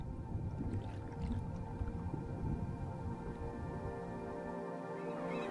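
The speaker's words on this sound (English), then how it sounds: "The killer whale, a name that is no exaggeration." An underwater killer whale (orca) vocalizes in a continuous wash of tonal calls and clicks, with water noise steady throughout.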